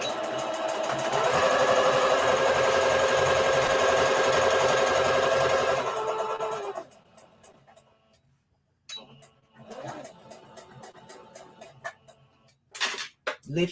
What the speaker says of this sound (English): So we will just continue to sew